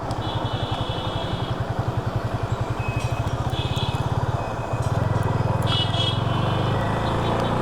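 A Yamaha FZ 250 motorcycle's engine thrums in a close, steady pulsing rhythm while riding, then the pitch and load shift as the bike slows and turns around, loud throughout.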